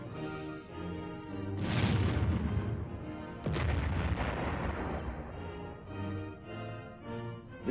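A tank's fast-firing 76mm gun booms twice in heavy, rolling blasts, each followed by a long rumbling decay, with a low engine-like drone underneath.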